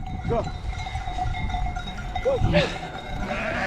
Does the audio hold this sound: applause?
no